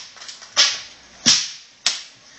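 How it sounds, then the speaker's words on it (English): Sharp bullwhip cracks from a performer working two whips at once, three loud distinct snaps spaced roughly two-thirds of a second apart, close and clear with no talking. "2 whips at one time."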